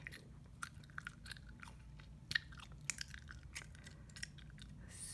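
Spearmint gum chewed close to the mic, soft moist smacks and clicks in a steady irregular rhythm, quiet and alone.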